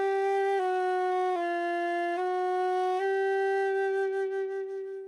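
A flute plays a slow chromatic exercise in its low register on low G, stepping down by half steps and back up to the starting note in clear, sustained tones that fade at the end, with no talking.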